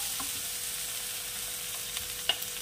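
Spices with chili powder frying in a pan over a lowered gas flame for a Bengali drumstick and poppy seed dish, a faint steady sizzle with a few soft stirring scrapes and one sharper clink near the end.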